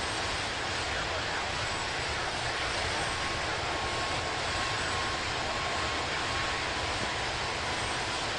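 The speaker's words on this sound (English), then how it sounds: "I'm flying an Airbus A320neo." An Airbus A320neo in a flight simulator gives a steady, even roar of jet engines and airflow with no breaks, with a faint high tone running underneath.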